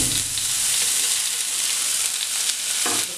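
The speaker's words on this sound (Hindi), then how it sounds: "अब इसमें हल्के से फ्राई करेंगे ये ऑनियन और ये पीस" Onion and cauliflower pieces fry lightly in hot oil, a loud, dense, continuous sizzle with a faint stir near the end and no voices.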